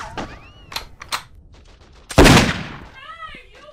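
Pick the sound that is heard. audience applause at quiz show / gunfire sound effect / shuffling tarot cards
gunfire sound effect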